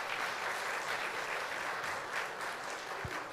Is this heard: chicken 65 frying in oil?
no